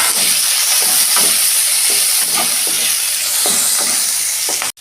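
Onion and tomato hit a hot pan of oil tempered with five-spice, bay leaf and green chilli, producing a loud, hissing sizzle with repeated stirring strokes scraping underneath until an abrupt cutoff at the end.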